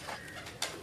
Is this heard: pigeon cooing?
yes